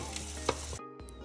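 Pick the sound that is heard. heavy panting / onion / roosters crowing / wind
onion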